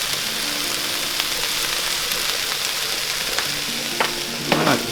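Chopped spinach sizzles steadily in a pan over medium to medium-high heat, with faint scrapes of stirring and a few louder clinks near the end, close and alone.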